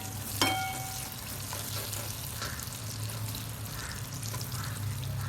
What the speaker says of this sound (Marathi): कांदा टाकून द्यायचा कांदा परतून घ्यायचा चांगला